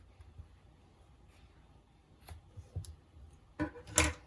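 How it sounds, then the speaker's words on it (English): Scissors snip through yarn after finishing a crocheted amigurumi ice cream cone, a few quiet close cuts ending in one sharper clip, with no talking. "Pull through and cut your yarn."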